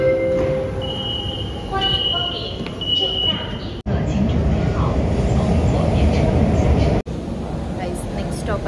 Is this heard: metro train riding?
yes